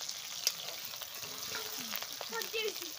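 Meat and onions sizzle and crackle in a pan, a fairly quiet, steady frying hiss with small pops and a few stirring scrapes.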